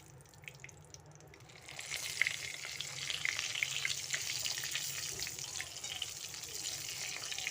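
Brinjal sizzles in hot oil with a crackling hiss that swells after a quiet start and keeps bubbling steadily, close and moderately loud.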